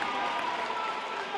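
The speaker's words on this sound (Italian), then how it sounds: "L'applauso del pubblico del Palapanzini" Steady applause from the audience in the stands at a Serie A futsal match in Bitonto's Palapanzini arena, a dense, even wash of clapping that holds at a constant level throughout.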